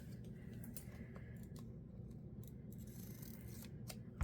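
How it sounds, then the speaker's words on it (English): Scissors snip through a folded paper edge on a handmade journal, a series of close, crisp cuts in an irregular rhythm over a low steady room hum, with no talking. "So I'm going to have to cut that off."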